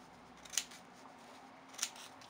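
Scissors snip twice through crepe paper close to a straight sewing stitch, two short crisp cuts a little over a second apart in a quiet room.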